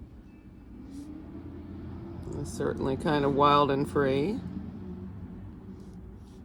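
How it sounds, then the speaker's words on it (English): Heavy trucks passing by outside make a steady low rumble that swells and fades over several seconds, heard beneath a person speaking in the foreground. "Sorry about the trucks going on out there."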